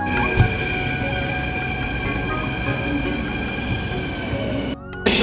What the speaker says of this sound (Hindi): अभी जस्ट मेट्रो गया है, तो फिर आता है तो हम वहाँ पे चढ़ते हैं